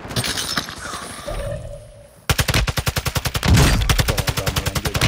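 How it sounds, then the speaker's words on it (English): Video game gunfire under attack from several sides: a burst of shots and a muffled lull, then a loud, rapid, evenly spaced string of automatic fire close by. "I'm getting shot from every direction possible."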